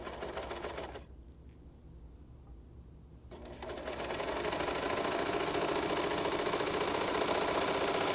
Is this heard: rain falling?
no